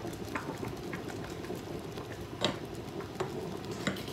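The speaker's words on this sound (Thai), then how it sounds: "คนเรื่อยๆเลยนะ" A spoon scrapes and stirs steadily through a thickening mix of flour and soup powder in a large pot of chicken fricassee, with soft clinks over a low bubbling simmer, close by and with no talking.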